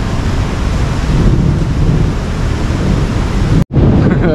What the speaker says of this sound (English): can you hear that? There's thunder.